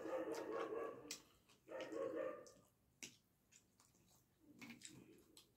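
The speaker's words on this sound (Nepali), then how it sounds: "कुकुर भोकेको छ है बाहिर" A dog outside barks in a few short bursts, one after another, fairly faint and distant, with quieter yips and gaps between them.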